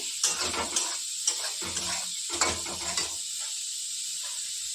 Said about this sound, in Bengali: এবারে গ্যাসের আঁচটা একটু জোরে দিয়ে একটু ভেজে নেব।